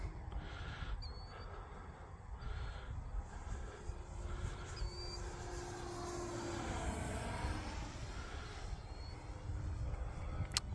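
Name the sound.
electric model warbird airplane flying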